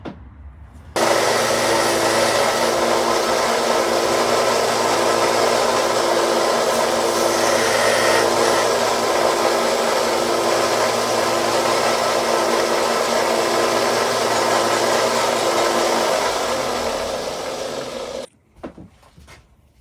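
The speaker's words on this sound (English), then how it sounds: "Now I'm going to sand that down some and form that head." A power sander grinds down the head of a knife part, a loud, steady whirring roar that starts abruptly, runs nearly unbroken for about seventeen seconds, then winds down and cuts off.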